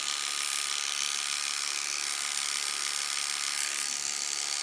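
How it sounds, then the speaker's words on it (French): Electric dog clippers run steadily and close up while trimming between the toes of a poodle's feet, a continuous high buzzing drone with no talk over it. "j'écarte le doigt de pied avec ma tondeuse"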